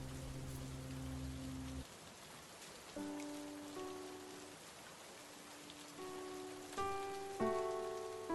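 Rain falls as a soft, steady patter beneath gentle sustained musical tones, faint and continuous throughout, with no voices present.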